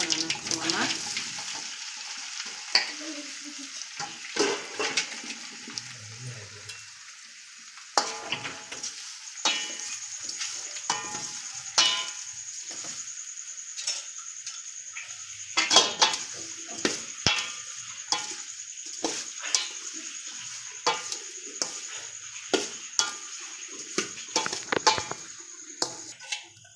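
Muthiya dhokla pieces stirred through a hot tempering of curry leaves, turmeric and spices in a home kitchen, giving a steady sizzle broken by repeated spoon scrapes and taps against the pan, close and fairly loud.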